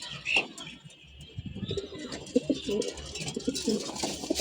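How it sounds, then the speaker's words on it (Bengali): Male pigeons kept in a loft coo in low, repeated throbbing calls, close and fairly loud, with faint chirps and background bustle mixed in. "তো এই হচ্ছে মাশাআল্লাহ, আলহামদুলিল্লাহ আমার নর কবুতরগুলা।"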